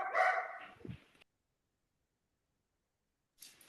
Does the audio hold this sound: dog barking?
yes